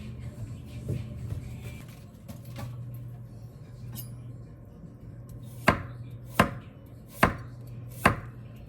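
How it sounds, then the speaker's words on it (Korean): A sharp knife slices through carrot on a cutting board, starting with light uneven cuts and ending in four loud, evenly spaced chops, close and crisp, with a faint low background hum. "당근이 이렇게 썰릴 수가 원래 이렇게 썰리는 거였어?"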